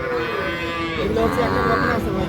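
A young bull calf moos loudly and close by in one drawn-out, wavering call that rises and dips, with no talking.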